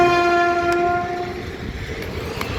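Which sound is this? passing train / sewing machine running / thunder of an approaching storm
passing train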